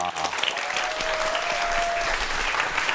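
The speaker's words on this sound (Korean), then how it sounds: "오늘의 주인공 두 분 박수로 환영해 주시기 바랍니다" An audience applauds steadily as two guests, a forensic science researcher and a police studies professor, are welcomed onto a Korean studio talk show; the clapping is dense and even, with a faint tone running beneath it.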